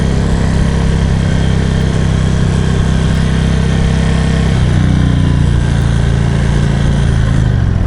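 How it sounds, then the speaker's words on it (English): An Indian Vintage motorcycle engine holds steady at around 3,300 RPM with a continuous loud, buzzing vibration and a faint rattle riding on top of it, with no one talking. "something's rattling when it vibrates"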